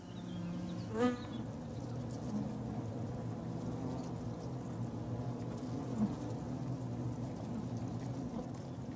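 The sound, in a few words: wild bees buzzing around the hive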